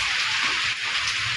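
Heavy rain pours steadily in a downtown area, a dense, loud hiss with no break.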